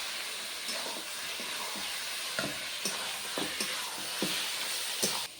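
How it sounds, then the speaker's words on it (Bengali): Mutton pieces frying lightly in oil with salt and turmeric give a steady close hiss, broken by scattered scraping taps of stirring throughout. "হালকা ভেজে নেব।"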